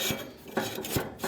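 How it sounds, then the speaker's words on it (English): Metallic ratcheting from a jack being cranked on a Japa 315+ firewood processor as it is set up for road travel, heard as a few short rasping strokes at a steady pace, close and moderately loud. "Now I'm going to push up on this jack again."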